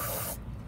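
Penetrating lubricant sprayed onto a VW Beetle bumper bracket makes a brief, close, loud hiss that cuts off abruptly.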